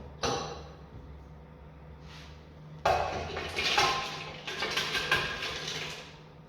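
Dark chocolate, about 600 grams, snapped by hand into pieces in a kitchen, giving a few sharp cracks and clatters followed by a denser burst of crisp breaking and rattling pieces.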